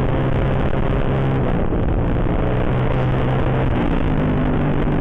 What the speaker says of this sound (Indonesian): kita pelanin aja motornya.